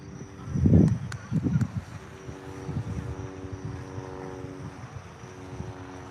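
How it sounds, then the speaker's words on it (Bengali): A speedboat passes on the Atlantic off Wantagh Park, New York. Its motor drones loud and close at first, swells in a couple of surges, then settles into a steadier, fading hum. "speed boat"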